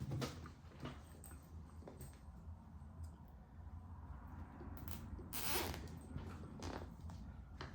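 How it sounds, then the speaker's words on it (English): A zip tie ratchets tight around a velvet ornament, with several quick bursts of rapid clicking and one longer, louder pull near the middle over a quiet room hum. "Zip tie this one."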